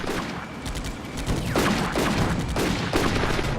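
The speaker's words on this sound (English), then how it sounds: "putting some small arms fire into that hiding spot" Small arms gunfire in the World War II strategy game Combat Mission: Afrika Korps during an assault on a town, with several sharp bursts of shots over a dense, noisy background of battle sound, no talking.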